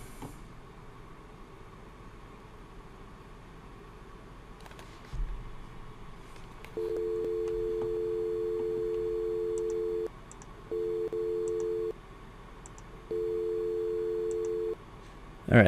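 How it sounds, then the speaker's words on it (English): A steady telephone dial tone over a SIP trunk hums in long stretches, cutting out briefly and resuming three times, with faint clicks and handling noise between. "Alright, so I'm getting dial tone."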